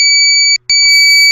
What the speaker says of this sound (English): I'm hearing a beep.